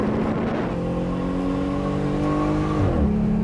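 Engine of a lifted, modified Jeep Gladiator revving under throttle, a loud continuous droning growl that climbs in pitch, then drops sharply near the end as the revs fall back.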